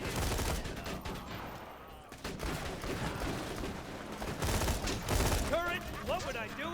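Axton's deployed turret in Borderlands 2 fires rapid bursts of automatic gunfire, loud and continuous over several seconds, mixed with other combat effects and a brief quiet gap, with some speech-like chatter in the mix.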